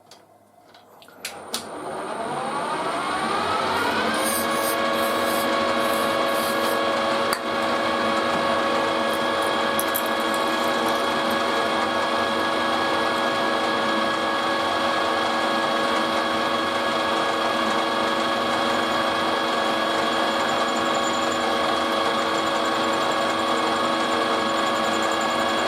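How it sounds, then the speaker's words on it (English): A drill bores through a metal bush during a BSA bush-to-bearing conversion, spinning up over the first few seconds into a loud, steady mechanical whine with a ratcheting edge that holds constant to the end, with no talk. "I've got to extend the drill out a bit more."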